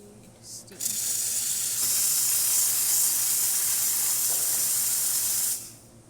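Steam wand of an ECM Mechanika espresso machine, just serviced, bursts on with a loud, steady bright hiss that holds for about five seconds and then cuts off, close up with no talking.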